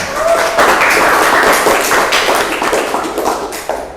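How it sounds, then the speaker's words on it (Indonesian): Students in a classroom applaud at the end of a lesson, a loud, dense burst of clapping that carries on without a break for a few seconds. "Tepuk tangan untuk kita semua."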